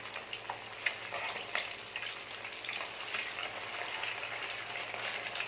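Pieces of fish frying in hot oil in a pan for a South Indian meen varuval, a soft, steady sizzle close by, with a couple of light knocks as the pieces are turned over.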